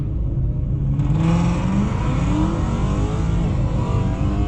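Ford Mustang engine in drag strip mode pulling hard in first gear, a loud, steady roar that climbs in pitch as the car accelerates, with no talk.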